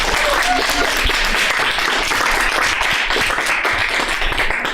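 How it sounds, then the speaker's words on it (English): A crowd at a dance masterclass in Leeuwarden claps loudly and steadily, with dense, continuous applause from start to finish. "I think he needs a big applause"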